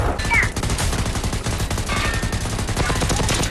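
Dense, loud video game gunfire rattles in rapid continuous bursts, a fusillade of shots from a weapon in a firebird battle, near and unbroken with no pauses.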